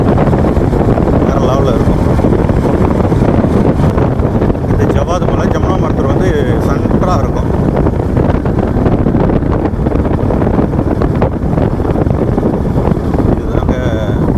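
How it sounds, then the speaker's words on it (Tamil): Cool wind blows hard across the microphone on a mountain road, a loud, continuous buffeting rumble that lasts the whole clip with no break. "எப்பயுமே காற்று ஜில்லுன்னு அடிக்கும்"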